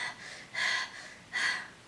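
Two separate nasal sniffs through a blocked, congested nose, each a short breathy rush, close and fairly quiet with a pause between them.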